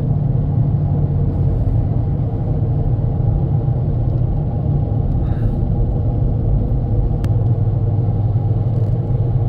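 A Toyota car with a semi-automatic MMT gearbox showing fault codes P0810 and P0900 drives slowly in second gear at about 15 km/h, giving a loud, steady engine and road rumble inside the cabin.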